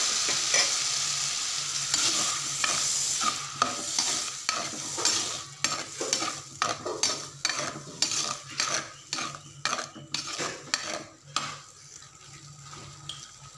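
Boiled peas are stirred with a ground paste in a pan for bhel puri, with repeated close scraping and clinking strokes and a light sizzle, fading toward the end. No one speaks.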